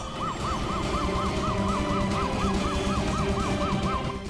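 An emergency siren wails in a steady repeating up-and-down pattern over constant traffic and engine noise, loud and close for the whole stretch, with no talking.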